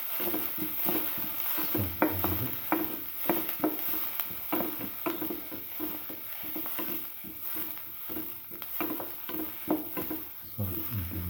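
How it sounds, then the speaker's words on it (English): Shallots fry in a pan with steady sizzling and spattering, broken by frequent clinks and scrapes of a utensil stirring against the pan. "Let it fry"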